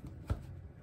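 A brief, soft riffle of tarot cards being shuffled, quiet and close, with one slightly sharper snap partway through.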